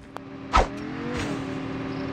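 A car engine in Call of Duty Mobile gives a short, sharp rev burst, then settles into a steady, fairly close hum, with no voices.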